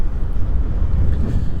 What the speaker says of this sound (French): Il y a vraiment beaucoup de rafales de vent aujourd'hui, hein.